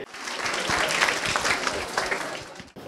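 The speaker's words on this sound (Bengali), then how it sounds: "আবারও জোরে একটি হাততালি দেই" Students at a school quiz event give a loud, dense round of applause that swells and holds for about three seconds before fading, with no talking over it.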